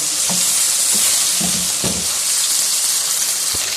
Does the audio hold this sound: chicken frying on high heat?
yes